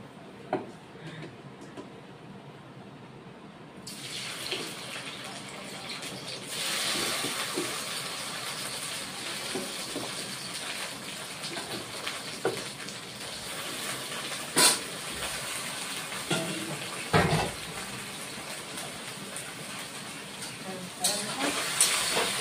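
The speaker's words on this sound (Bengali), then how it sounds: "ভেন্ডির মধ্যে তেল দিয়ে দিচ্ছি, এই কড়াইয়ের মধ্যে তেল দিয়ে নিচ্ছি। আগে ভেন্ডিটা অল্প ভেজে নেব।" Okra fries in hot oil in a wok, starting with quiet handling sounds before a loud, steady hissing sizzle takes over, marked by occasional sharper crackles and bursts.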